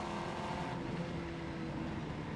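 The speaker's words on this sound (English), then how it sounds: "it actually kind of sounds like an F1 car too. It's got like the little engine noises to it" A Formula 1 car skin in a video game gives off a thin, steady engine drone with a high whine, held at a constant pitch and fairly quiet, with no one talking over it.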